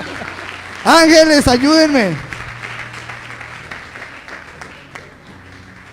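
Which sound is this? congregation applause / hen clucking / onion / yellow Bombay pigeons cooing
congregation applause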